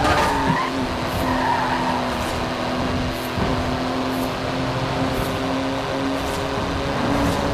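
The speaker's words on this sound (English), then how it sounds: "Hard on those carbon ceramic brakes now." A car in Forza Horizon 4 brakes hard on carbon ceramic brakes, its tires squealing and skidding in a sustained, loud screech over a steady engine drone that runs unbroken to the end.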